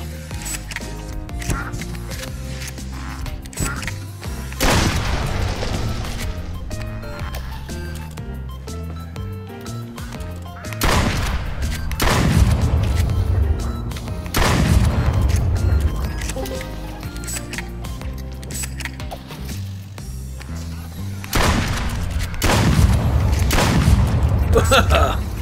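Shotgun blasts in the Duck Season VR video game land as several loud booms spread across the stretch. Each is followed by lingering ringing and clatter, with a voice speaking between them.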